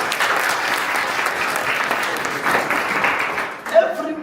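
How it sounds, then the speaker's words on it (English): A grade 12 life sciences class claps for a student who has just named the parts of the brain, giving a short burst of lively applause that ends abruptly, followed briefly by voices. "Clap for me."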